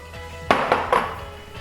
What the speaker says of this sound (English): This time around I just wanted to just use a whisk.